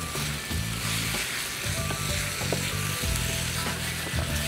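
Chicken gizzards sautéing in a pan, a steady close sizzle and crackle of frying with soft stirring scrapes throughout, no talking.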